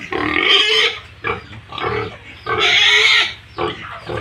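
Pigs grunting and squealing on a farm, several animals vocalising close by in loud overlapping bursts with short pauses between them.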